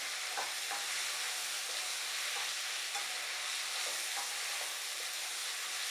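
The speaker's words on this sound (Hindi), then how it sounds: "लहसुन काट के रखा था उसको डाल देना है इसको भी फ्राई कर लेंगे" Chopped garlic flakes frying in a pan for a dry arbi masala sabzi, a constant soft sizzling hiss with occasional light spatula stirs and taps, close and steady, no speech.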